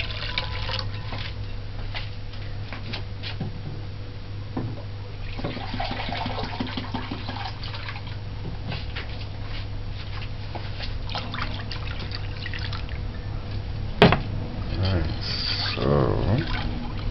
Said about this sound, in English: Add the water.